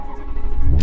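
Maserati Quattroporte pulling away after being shifted into drive, a brief low engine rumble swelling as the car sets off, close and fairly loud.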